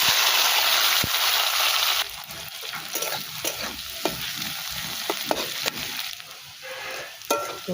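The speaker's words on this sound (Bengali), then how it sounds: "রসুন, পেঁয়াজ, লঙ্কা এগুলোকে ভালো করে ভেজে নিয়ে কচু শাকটা দিয়ে দেব" Garlic, onion and chili frying in a pan over a stove, a loud bright sizzle at first that settles into crackling with scattered stirring clicks and scrapes.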